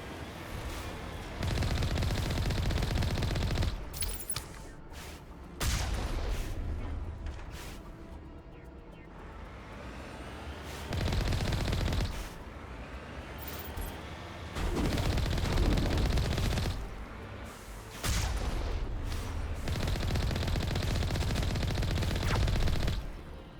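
Enemy gunfire aimed at the player in Mass Effect Legendary Edition, heavy automatic bursts coming in long loud waves separated by quieter gaps, with occasional single shots between.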